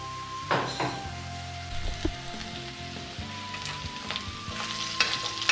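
Chopped ginger sautés in oil in a home kitchen, giving a soft, steady crackling sizzle with occasional stirring clinks and scrapes, fairly quiet and close, with no voices.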